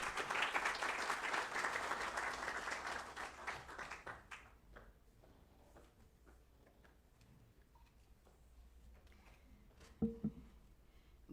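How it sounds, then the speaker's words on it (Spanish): Audience applause at a university law and social sciences faculty forum, dense clapping for about four seconds that thins to scattered claps and quiet room noise, with a brief thump near the end. "Un aplauso, por favor."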